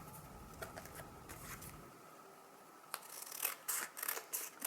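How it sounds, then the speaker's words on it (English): Scissors trimming paper for a handmade birthday card shaped like a cake slice, heard as a string of close, quiet snips and rustles that sharpen into brisk cuts toward the end, with no talking. "I'm going to trim it down just a little so it fits my paper."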